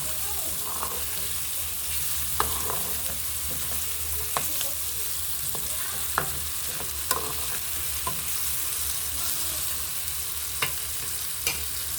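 Spices being stirred into food frying in oil in a pan, with steady sizzling throughout and sharp scraping clicks of the spoon at irregular intervals, close and moderately loud with no talking.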